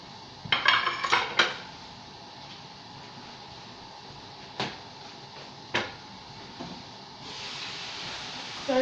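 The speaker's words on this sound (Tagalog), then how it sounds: "Stir lang natin yung ating chicken." A metal utensil clinks and scrapes against a cooking pot while chicken curry is stirred, with a quick cluster of sharp clanks, then scattered single knocks, and sizzling swelling near the end.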